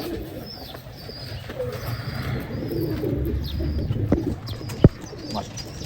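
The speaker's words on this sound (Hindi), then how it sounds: "ये जी हमारे चीने कबूतर हैं" Cheena pigeons coo softly in a loft, low repeated throaty calls over a murky background with occasional sharp chirps and a brief clack near the end.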